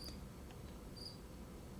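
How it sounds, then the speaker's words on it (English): A cricket chirps steadily in a quiet indoor room, its high, thin pulses repeating close by over a low background hum, with no voices. "If you do hear a cricket chirping, I'm sorry"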